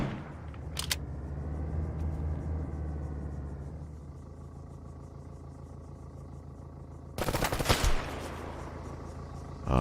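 Gunfire in the video game Arma 3, a sharp shot near the start, a steady mechanical engine drone, then a dense close burst of rapid shots near the end.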